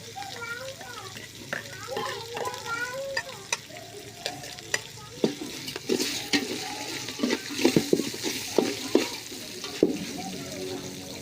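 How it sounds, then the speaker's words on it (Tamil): Onion tipped into a pan and sautéed for a jackfruit kadayal, with stirring scrapes and clicks of a spoon against the pan over a soft sizzle, growing busier and louder in the second half; no one talks. "இப்போ வெங்காயத்தை போட்டு சேர்த்துப்போம்."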